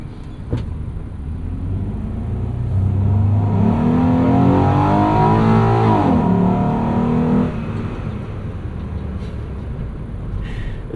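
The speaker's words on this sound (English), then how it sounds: "It's crazy how sporty that V6 sounds." 2016 Mobility Ventures MV1 V6 engine accelerating, heard from inside the cabin as a rising sporty growl that swells and climbs in pitch for a few seconds, then eases back to road hum.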